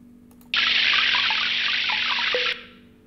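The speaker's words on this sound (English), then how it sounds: "many little bubbles were formed and then one big one at the end" Underwater, many small bubbles form in a steady two-second hissing rush, then one larger bubble closes it with a brief low ringing ping before the sound fades to quiet.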